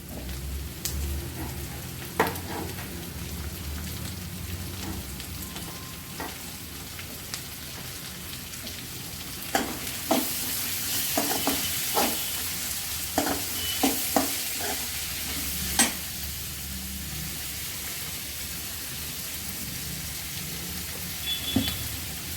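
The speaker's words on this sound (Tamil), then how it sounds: "இப்போ நம்ம தக்காளியை போடுவோம்" Tomato sautéing with browned onions in a pan, a constant crackling sizzle like rain on a surface, punctuated by repeated sharp spatula scrapes and taps, no talk.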